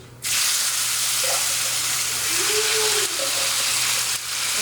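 Meat browning in brown sugar and oil sizzles steadily in a pan, a loud continuous hiss with a faint rising tone, no talking.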